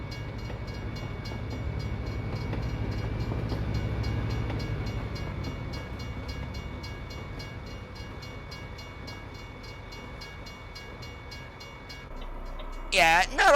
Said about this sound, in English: Yeah, not a whole lot to that train.